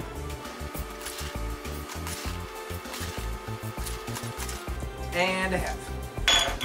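Coffee beans scooped and poured into a coffee grinder, giving a rattling, clinking patter of hard beans against the hopper, with a brief spoken phrase and some background music.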